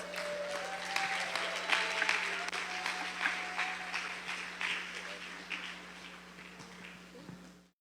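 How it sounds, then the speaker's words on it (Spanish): Congregation at a Spanish-language church service claps for God, a full roomy applause that swells early then gradually thins and fades out over nearly eight seconds, with a sustained low hum and some voices mixed in. "le damos un aplauso a Dios"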